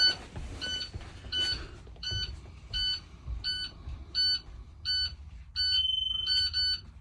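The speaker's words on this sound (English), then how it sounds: "my No Child Left Behind alarm is operational. The buzzer is sounding" A vehicle's child reminder alarm buzzer beeps in steady short pulses, about a dozen in a row, loud and close, over a low engine rumble.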